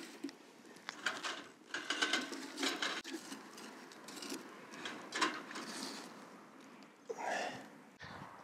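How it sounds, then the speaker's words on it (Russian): Green shchi soup with young nettles bubbles and boils in a kazan cauldron, with irregular close gurgles, pops and hissing bursts rising and falling, no talk. "Что там так кипит-то у нас?"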